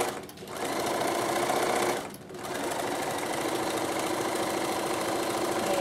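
A Bernina sewing machine runs steadily while stitching a fabric binding, a continuous close whirring hum that stops briefly twice before resuming.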